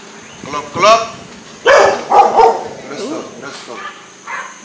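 A dog barks from behind a house door after dark in Suriname, a handful of sharp, close barks and yips in short bursts.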